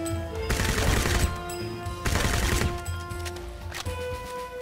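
Gunfire from an AK rifle in the shooter game Crysis, sounding as two loud, dense bursts of rapid shots, each about a second long, set over a steady game soundtrack with sustained musical tones.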